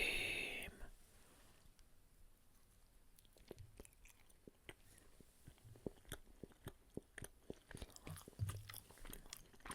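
Bites and chewing of a Snickers Xtreme candy bar, soft and close, with a run of crunchy clicks and pops that thickens toward the end, with no talking.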